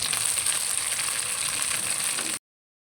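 Chicken leg pieces shallow-frying in oil, a dense, even hiss of sizzling held close and fairly loud for about two seconds before cutting off abruptly into silence.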